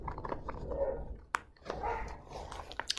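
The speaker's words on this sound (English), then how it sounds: "The dogs are playing outside too." Several dogs bark and yip in short, irregular bursts while playing outdoors. The sound is faint and somewhat distant, with no talking.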